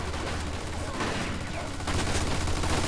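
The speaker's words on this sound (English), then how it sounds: "Looks like we found the machine gun." Machine gun fire in the Mafia 2 Definitive Edition video game: dense, continuous gunfire with rapid overlapping bursts that stay loud and close for about three seconds, growing slightly heavier near the end.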